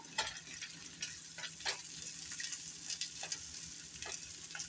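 Vegan scallops sizzle in a pan, a steady close hiss of frying broken by small irregular pops and crackles throughout.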